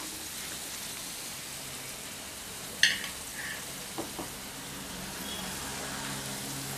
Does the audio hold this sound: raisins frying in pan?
yes